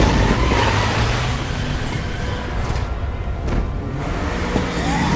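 Police car from Resident Evil 2 Remake driving off, a steady loud engine roar with road rumble throughout, fairly close, with no voices.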